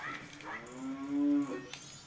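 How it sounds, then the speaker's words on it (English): A cow in the video game Majora's Mask gives a single drawn-out moo, clear and upfront, rising and then falling away over about a second. "Yeah, what the hell do you want, you stupid cow?"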